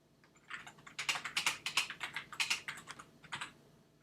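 Fast typing on a computer keyboard, close and crisp, with dense bursts of clicking keystrokes running for a few seconds and brief pauses between runs.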